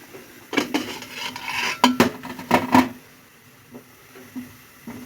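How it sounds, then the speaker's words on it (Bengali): A thermos flask being washed, with a cluster of loud knocks and clinks of metal and hard surfaces bunched near the start, then quieter rubbing and a few faint taps. "ফ্লাক্সটা আরও আগে ধুয়ে নিব"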